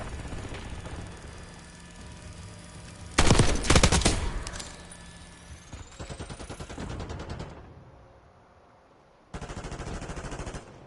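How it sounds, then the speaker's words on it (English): Rapid automatic gunfire in a PS5 shooter video game, loud bursts of sustained rattling fire with a sharp intense spell, then choppier shots, a brief lull and another sudden burst at the end. "Who's shooting at me?"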